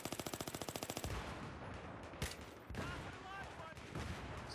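Rapid automatic F2000 rifle fire in Battlefield 3, a fast rhythmic burst of shots followed by explosive blasts and chaotic battle noise, loud and dense, with occasional pings and rumbles.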